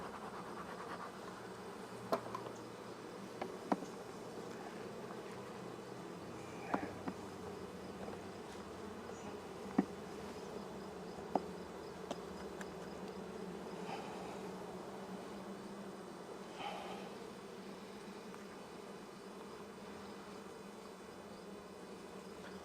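Honey bees buzzing around an open hive's brood nest in early fall, a dense steady hum close by and continuous, with occasional faint clicks and knocks from hive handling.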